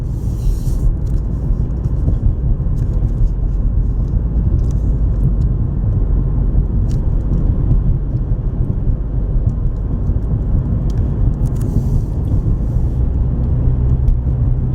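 A car drives White Lake Road from White Lake to Highland, Michigan, a steady low engine and road rumble running throughout at an even level with no talking.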